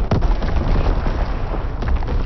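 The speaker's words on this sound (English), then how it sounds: "Incoming enemy artillery." Enemy artillery shells burst in a World War II shooter game, with loud, low booms rolling one after another through a continuous roar of battlefield noise and no clear pauses.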